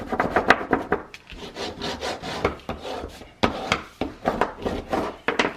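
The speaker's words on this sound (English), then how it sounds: "We'll go ahead and burnish this down." A burnishing tool rubs down layered paper on a handmade card in steady, close scraping strokes, about a dozen rhythmic passes with brief pauses between them.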